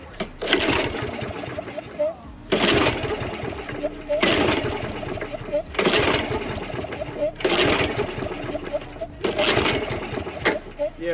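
A small engine on a free, secondhand lawn mower under repair runs unevenly, surging in loud rhythmic bursts about every second and a half. Someone talks over it.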